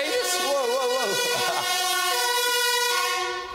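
Emergency vehicle sirens sweep up and down in pitch, one wailing tone over another steady blaring tone, loud and close before fading slightly at the end.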